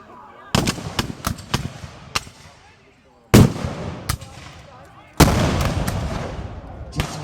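Rifles fire in a battle reenactment, with sharp shots in ragged volleys: a cluster of cracks, a pause, then two loud bursts of overlapping gunfire with fainter reports in between, close and echoing outdoors.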